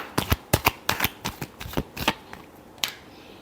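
Quick, crisp riffling of tarot cards being shuffled during a reading, a burst of close flicks that slows into a few scattered snaps at the end.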